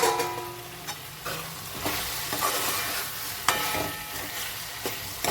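Chicken curry with onion and tomato frying in a pan while being stirred, a continuous close sizzle broken by repeated scraping and knocking strokes of the spoon at irregular intervals.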